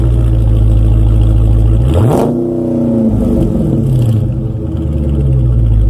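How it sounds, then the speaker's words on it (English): A 2021 Dodge Charger Scat Pack Widebody's stock exhaust, 392 engine, rumbles at idle, then revs up sharply with a rising roar before settling back into a deep, steady burble, loud and close. "So this is your stock sound exhaust system."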